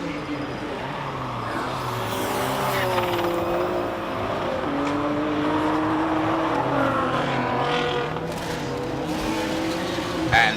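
Nissan GTR R32 racing up the Simola hillclimb, its engine note rising and shifting through gears at steady high volume, with a commentator talking over it throughout.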